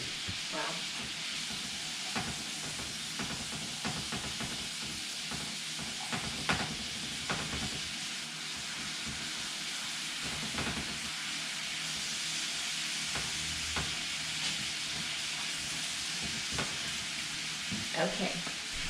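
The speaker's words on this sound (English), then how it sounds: "give these asparagus a quick" Asparagus sizzles steadily in a hot pan while it is stirred, giving a continuous frying hiss broken by light scraping and clinking. The cooking sounds are fairly quiet and come from close by.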